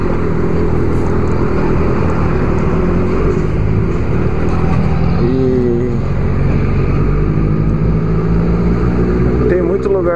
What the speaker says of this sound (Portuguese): Cara, que trânsito enrolado hoje,